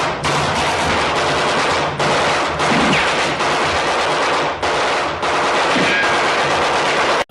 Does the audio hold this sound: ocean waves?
no